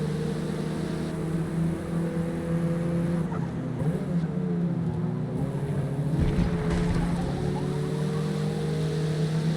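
A race car engine in the racing game Forza Motorsport drones steadily throughout, its layered harmonics rising and falling as the car shifts and accelerates, a continuous, fairly loud whine with no other sounds over it.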